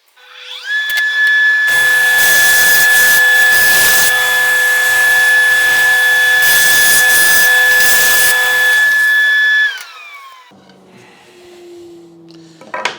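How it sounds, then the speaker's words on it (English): A table saw cuts a bevel in wood: the motor whines up to speed, then a loud, steady cutting roar lasts about eight seconds before the blade winds down, with no voices. "I've got my table saw already set up to the correct width and depth of the cut."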